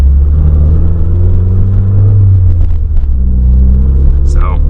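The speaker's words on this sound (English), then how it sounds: "I could get yelled at for driving lowered loud car in a graveyard." Lowered, loud Mazda Miata idling and rolling in a graveyard, its deep engine rumble steady and close throughout, with a brief high chirp near the end.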